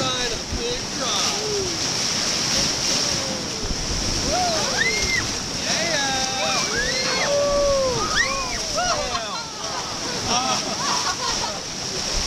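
Rushing whitewater on a river rapid with a ledge drop, heard from a raft as a steady broadband roar with splashing, while people talk and call out over it throughout.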